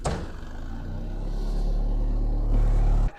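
A Mercedes 124 car engine running on vegetable oil idles steadily, then rises in a short rev before cutting off abruptly; close, loud and continuous, with no talk over it.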